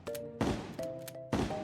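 Four-barrel shotgun blasts in Terraria, three sharp booming shots in quick succession, close and punchy, each leaving a brief ringing tail.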